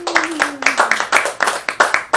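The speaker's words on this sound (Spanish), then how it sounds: "Un aplauso para Edward" A small group claps for Edward at a church service, a handful of loud, uneven hand claps close by, with a faint tone trailing underneath in the first second.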